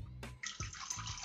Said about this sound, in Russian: наливаю в нее воды